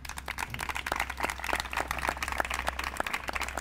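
Applause from an audience at a book presentation event, a steady spatter of many hands clapping at moderate level over a low background hum, continuing throughout.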